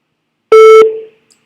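A single short electronic tone from a telephone while dialing another number, loud and steady for about a third of a second before a quick fading tail, alone in silence.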